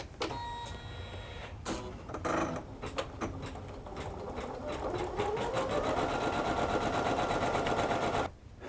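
A Janome 9850 computerized sewing machine runs an embroidery pattern, with a steady rapid mechanical stitching hum and clatter that builds and holds close and loud, starting after a few short clicks and stopping abruptly near the end.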